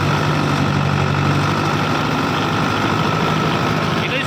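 A 60 HP tractor engine holds a steady loud drone at about 1600 RPM with the lift levers lowered, running continuously up close with a constant low rumble and no talk over it.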